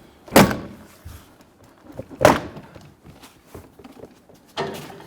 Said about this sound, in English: Get to release the plastic trim buttons around the perimeter.